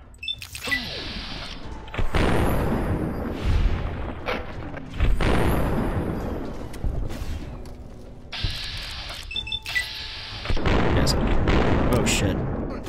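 Heavy gunfire in Fallout: New Vegas, a grease gun among the weapons, with repeated loud bursts of shots and booming impacts in several clusters across the stretch, echoing over a continuous roar of game noise.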